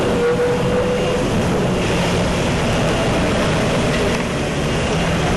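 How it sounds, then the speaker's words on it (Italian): Fire engines spraying powerful water jets onto a farm fire, a loud, steady roaring rush of water that fills the whole stretch without pause. "Aggrediscono l'incendio con potenti getti d'acqua."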